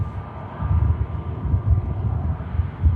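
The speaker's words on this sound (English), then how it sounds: "Yes, wake turbulence, that is, mate. That's the wake from the aircraft." Wake turbulence from a departing aircraft at Manchester Airport comes through as a low, rumbling wind-like roar that swells and fades unevenly, heard from a distance with no other sounds.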